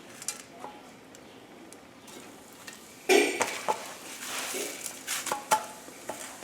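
Breaded pork paillard dropped into butter and olive oil, a sudden sizzle that keeps going, mixed with clanks of the pan and utensils.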